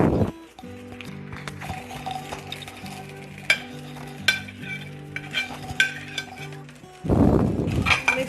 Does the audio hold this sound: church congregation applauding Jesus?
no